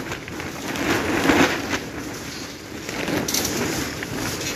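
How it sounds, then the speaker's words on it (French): Wind buffeting close by in uneven gusts, a continuous rough rushing noise that swells and eases, with no talking. "il y a un peu de vent"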